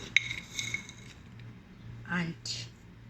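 A few light metallic clinks of a teaspoon against a cup or dish, sparse and quiet, with faint background hum.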